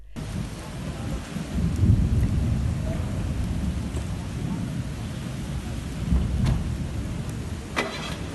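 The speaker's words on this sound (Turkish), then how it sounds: "Şiddetli yağışın etkili olduğu kentte" A heavy downpour hits a city during a severe storm, with a steady wash of rain and low rumbling swells like distant thunder or passing traffic, continuous and moderately loud.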